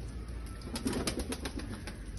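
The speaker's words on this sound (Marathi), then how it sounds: "कसं हे बघा प्रत्येक कलरची कबूतर कशी उठतात" Pigeons of various colours lift off together in a rural Konkan village at dawn, with repeated soft wing flaps over a steady outdoor background hiss.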